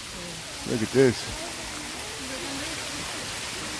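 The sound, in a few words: waterfall at Japanese Tea Garden, San Antonio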